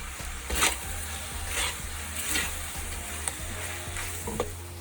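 Vegan Maggi goreng frying in a pan with a steady sizzle, while a spoon stirs mushroom sauce through it, making a few soft scraping strokes close up.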